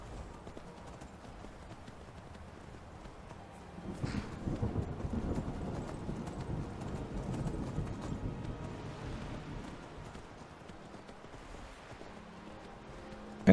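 Horse hooves clip-clop steadily in the video game Skyrim, growing louder midway and then easing off, with faint background ambience.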